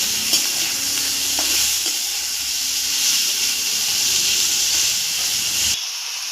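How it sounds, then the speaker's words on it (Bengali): Shrimp frying lightly in hot oil, giving a loud, continuous hiss and sizzle close by with a few faint stirring knocks. It cuts off sharply near the end. "চিংড়ি মাছটা বেশি ভাজতে নেই, অল্পই ভাজবো, তাহলে শক্ত হয়ে যায় চিংড়ি মাছ।"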